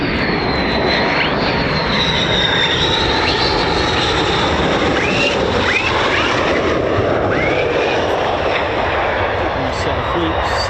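A steady, loud jet engine roar from an F-15 fighter at the US Air Force 48th Fighter Wing base at RAF Lakenheath fills the whole stretch without a break, while someone talks over it.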